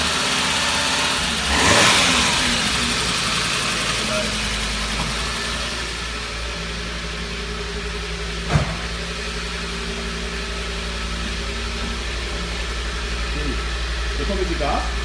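Cold start and idle of a carburetted inline-five engine in an old Audi 100 CL 5S, a steady low hum that holds for the whole stretch, with a brief louder swell early on and a sharp knock midway. Voices may be faintly present.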